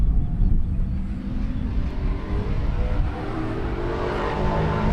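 Race cars, including purpose-built machines like a Camaro, rumble at a distance on a circuit at Sebring, a low steady engine roar building gradually as they approach.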